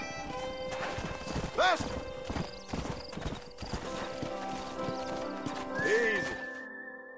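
A horse in the Red Dead Redemption video game, a stallion, clops along with steady hoofbeats and gives two loud whinnies, one near the middle and one near the end, while a voice speaks briefly over it.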